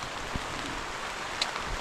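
Rain falling on a backyard farm, a steady outdoor hiss of drops with a few soft thumps and taps, continuous and even throughout.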